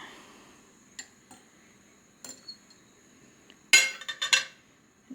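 A large metal fork set into a tall Paşabahçe drinking glass gives sparse light ticks, then a cluster of bright clinks near the end, close and clear in a quiet room.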